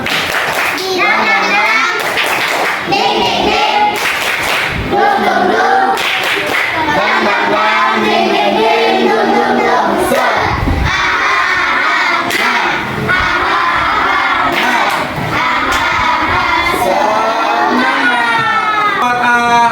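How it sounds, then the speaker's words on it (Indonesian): Children in a classroom perform the rhythmic 'tepuk semangat' spirit clap, patterned bursts of hand claps mixed with children chanting and shouting together, loud and close throughout. "Anak-anak, kita tepuk semangat."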